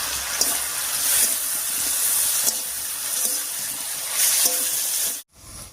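Slit green chillies hit hot oil in a pan and set off a bright, steady sizzle with crackling spits. It stays loud and close, then cuts off abruptly just before the end.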